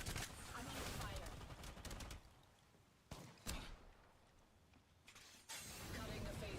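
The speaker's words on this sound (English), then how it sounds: "I'm under fire." Video game gunfire crackles in rapid bursts and scattered single shots, fairly faint, with quiet gaps between volleys.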